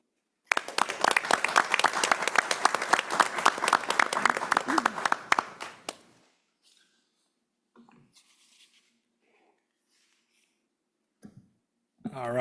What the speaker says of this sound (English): I think that we would give them a warm round of applause to celebrate their achievement